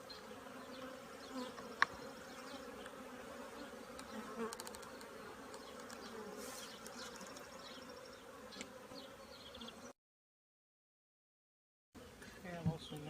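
A colony of honey bees buzzes around an open hive early in the morning, a dense, continuous excited drone with occasional closer passes, a voice speaking faintly beneath it.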